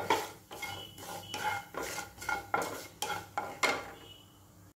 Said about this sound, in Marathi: थोडासा ओवा घालायचा आहे आणि थोडेसे जिरे। हे व्यवस्थित असं तेलामध्ये परतून घ्यायचं आहे